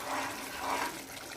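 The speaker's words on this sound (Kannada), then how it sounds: "ಇವಾಗ ಗ್ರೇವಿ ಕುದೀತಾ ಇದೆ." Capsicum gravy boils in a pan with a soft, continuous bubbling hiss that rises and falls slightly, heard close and alone.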